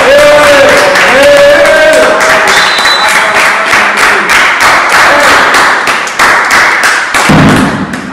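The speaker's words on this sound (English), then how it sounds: "Clap for him." Studio audience applause on a talk show, loud and close, with dense rapid claps that hold steady for several seconds before thinning near the end.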